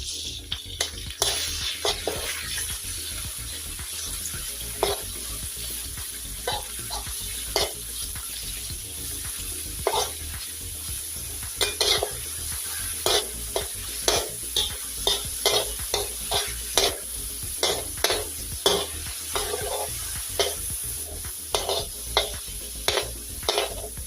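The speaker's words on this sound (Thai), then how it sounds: "เราก็จะใส่หมูที่เราหั่นเอาไว้นะคะ ลงผัดเลย" Sliced pork sizzles in a hot pan while a utensil scrapes and stirs in frequent irregular strokes, the frying hiss continuous underneath.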